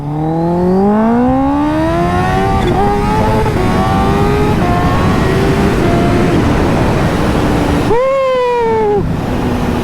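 A supercharged Kawasaki H2 motorcycle engine revs hard up close, its loud whine climbing steadily in pitch for several seconds, then a quick, sharp rev rises and falls near the end.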